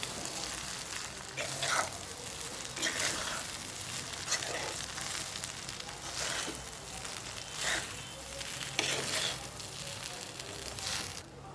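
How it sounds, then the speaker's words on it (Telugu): Cooked rice is stirred into sizzling carrot rice in a hot pan, with repeated scraping and tossing strokes over a constant frying hiss, close and fairly loud. "ఈ విధంగా అయితే రైస్ వేసుకొని బాగా కలుపుకోవాలి"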